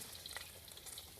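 Steady crackling sizzle of a Thai omelette frying in hot oil on a biomass gas stove, a dense hiss with small pops throughout, close and fairly quiet.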